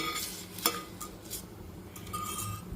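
Coconut and raw mango chutney being stirred into a reddened fried tempering in a pan, with soft scraping and light clinks of a spoon against the pan at a quiet, close distance.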